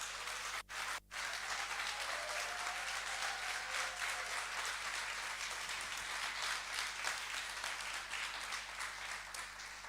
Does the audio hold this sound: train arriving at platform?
no